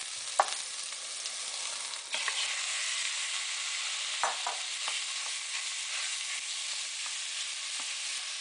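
Ground bison meat hits a hot pan of softened, translucent onions and sizzles steadily, a bright continuous frying hiss with a few sharp crackles and stirring scrapes.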